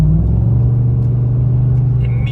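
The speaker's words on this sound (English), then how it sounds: "I'm gonna barely hit the throttle." Engine of a GMC/Chevy Sierra/Silverado pickup fitted with a Pedal Commander throttle controller, rumbling steadily with a light throttle blip near the end, close and loud.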